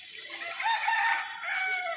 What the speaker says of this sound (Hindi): अरे ओ मुर्गा दौड़ता आते रे सिमी